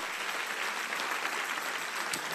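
A congregation applauds during a church sermon, a dense, even wash of clapping that holds at moderate volume throughout the short stretch.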